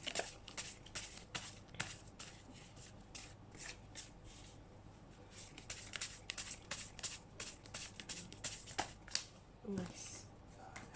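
Tarot cards from a motivation deck shuffled and drawn, soft quick riffling flicks and snaps in irregular bursts, close and quiet against a faint background hum.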